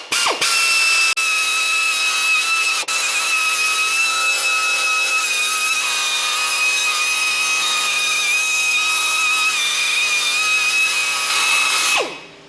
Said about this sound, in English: we're using the air gun because my battery died on my drill